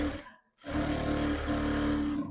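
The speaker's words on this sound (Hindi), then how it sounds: "यहां भी थोड़ा पैकिंग सिलाई कर लीजिए।" Domestic sewing machine stitching a katori blouse, a steady continuous motor hum after a brief silent pause near the start, running close and even for the rest of the clip with no talk.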